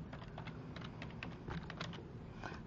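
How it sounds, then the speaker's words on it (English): A file name is typed on a computer keyboard, a quiet, close run of uneven keystrokes with no speech. "I'm gonna type final project."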